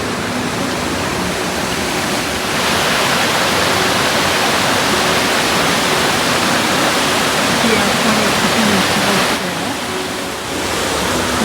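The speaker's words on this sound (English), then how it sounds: "We are at the Cascade de Angles, goal of our hike." Cascade des Anglais, a waterfall on the GR20 hiking trail in Corsica, roars as a dense, continuous rush of falling water. It is loud and close, swells slightly midway, and dips briefly near the end.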